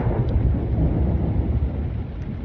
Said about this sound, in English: Also waiting for this thunderstorm to be done.